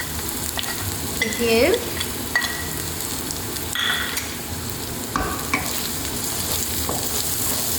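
Turmeric and chili powder fry in hot oil for a baby eggplant curry, a loud continuous sizzle with scraping stirs and clinks of a spoon, while a voice speaks briefly.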